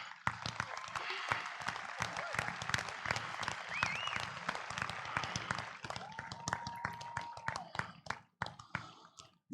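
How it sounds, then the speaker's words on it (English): Audience applause for standing graduates at a Decatur High School Class of 2020 graduation ceremony: dense, steady clapping from a crowd, with a few whistles and cheers rising over it before it thins toward the end. "Let us give you a round of applause."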